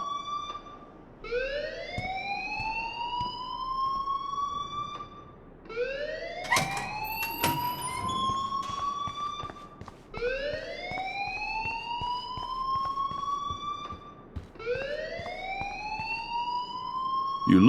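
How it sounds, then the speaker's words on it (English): A fire alarm in the video game Life is Strange wails in repeated rising sweeps about every four seconds, loud and continuous, with scattered clatter between the cycles. "please turn off that alarm since that's your job"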